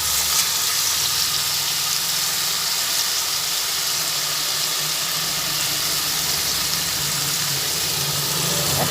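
Chicken ghugni masala sizzles steadily in hot oil as boiled, overnight-soaked ghugni peas go into the pan, a continuous close frying hiss with no voices.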